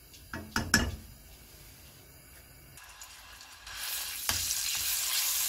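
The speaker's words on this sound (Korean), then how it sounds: "식용유를 둘러주시고 마늘 반 수저를 넣어주셔요." Garlic dropped into cooking oil in a pan: a few knocks and clatters up front, then a quiet lull before a bright sizzle swells and keeps hissing steadily to the end.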